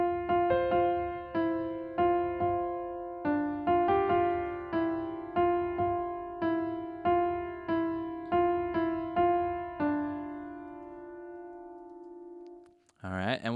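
Melody of a song played alone without chords, single sustained notes on a keyboard in a slow, even rhythm, clear and close, ending on a held tone.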